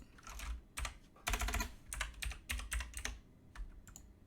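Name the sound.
computer keyboard typing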